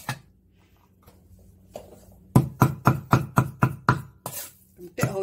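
A few quiet, scattered knocks give way to a burst of about seven loud, evenly spaced cleaver chops on salted pork filling for chive and pork dumplings, followed by a couple of softer strokes.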